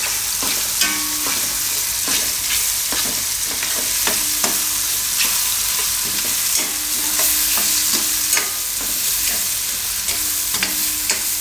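Sev and ridge gourd curry with crushed garlic-chili paste is stirred in a pan. A spatula scrapes and taps in a loose rhythm over a steady, loud sizzle of frying.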